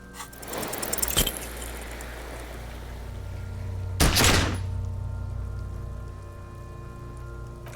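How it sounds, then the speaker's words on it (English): A single pistol gunshot in the video game Disco Elysium, a sharp broadband blast standing out near the middle of the clip over a steady rain-like ambient bed, with a smaller crack-like hit just before it. "A plume of smoke erupts from the barrel. Your hand goes numb from the explosion."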